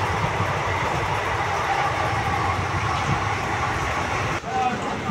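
Train rolling along the rails at night on the route into Rampurhat, a steady broadband rumble with faint rhythmic clatter throughout, heard from inside the carriage while lying in a berth.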